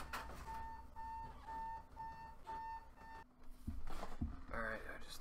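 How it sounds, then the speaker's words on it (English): An electronic alarm in a room beeps in a steady series of short tones, then stops as a person talks and moves about nearby. "I just turned that alarm off"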